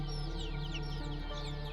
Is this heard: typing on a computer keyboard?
no